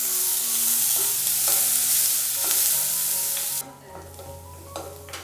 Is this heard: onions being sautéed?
yes